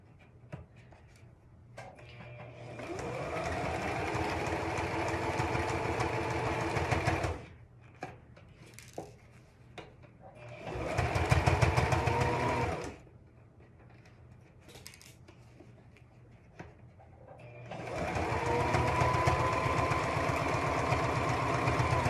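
A sewing machine stitches a child's hat in three loud bursts of steady whirring, separated by pauses with faint handling noises.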